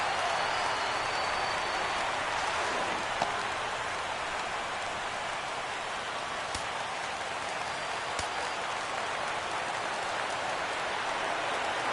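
A steady, loud roar of stadium crowd noise rises in a PS4 baseball video game as fans get up for a 3-2 count, a continuous wash of cheering with no clear breaks.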